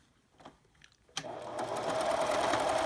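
A sewing machine stitches flying-geese quilt triangles on both sides of a cutting line. It starts abruptly after a quiet pause and runs as a steady, close, whirring hum to the end.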